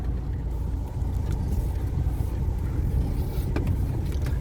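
A car crawls slowly along an unpaved dirt track cutting through farm fields, its steady low engine rumble and bumpy road noise continuous and close throughout.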